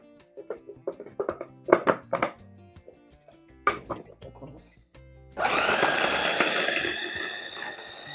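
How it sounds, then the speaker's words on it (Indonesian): An electric chopper or blender grinding spice paste for grilled chicken bastes starts up after a run of clattering handling knocks, then whirs loudly and steadily to the end. "kita masukkan ke dalam chopper atau blender ya, suka-suka saja"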